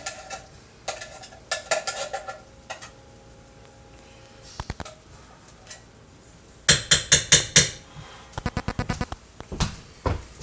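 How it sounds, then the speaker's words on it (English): A spoon scrapes chickpeas out of a metal can, making clusters of quick metallic clinks and knocks, loud and close, with quieter gaps between the bursts and no talking. "Get all that good stuff out of the can."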